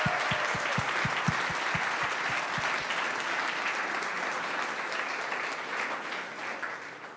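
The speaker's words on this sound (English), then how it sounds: "Let's give a round of applause for them all." Audience applause at a startup demo day, a broad, steady wash of many hands clapping that fills the room, holding loud throughout and easing slightly toward the end.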